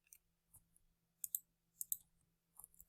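Computer keyboard typing: scattered clusters of sharp key clicks and taps in small bursts, close and fairly quiet over a steady low hum, with no voices.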